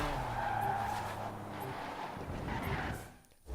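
A Mako Shark car drifting in Forza, its engine droning steadily while the tires skid and squeal along the road, fairly faint and continuous, with a brief dip near the end.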